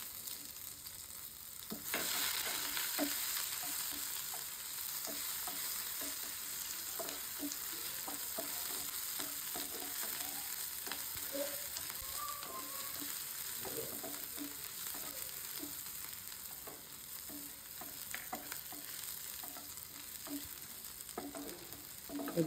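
Onion and garlic fry in hot oil with dried chillies for a turmeric-free cauliflower and bean stir-fry, a steady loud sizzle lasting throughout with scattered soft stirring clicks and no talk.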